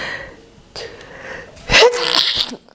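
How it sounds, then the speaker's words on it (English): A single sharp sneeze bursts out after a quiet, breathy build-up, close and loud, then trails off into silence. "Phew, I'm gonna sneeze."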